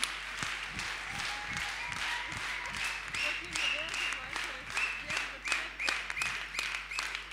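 Audience applause at the closing speech of a creative-economy event: sharp, fairly regular claps ring out under continuous talking, the hand claps growing slightly stronger toward the end.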